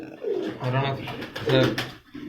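A pigeon of a prized breed coos softly in a keeper's hand, a few low throaty rolling coos close by, while someone speaks at the same time.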